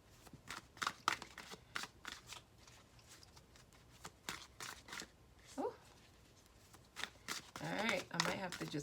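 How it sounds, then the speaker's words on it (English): Tarot cards are shuffled close by in repeated quick riffles and flicks, and the bursts grow denser toward the end. "Just pull one from the top here."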